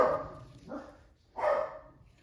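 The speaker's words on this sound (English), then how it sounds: "oh, my doggy. Sorry about that." A pet dog barks three times nearby in a home craft room, the loud first and last barks framing a softer middle one, with no talking.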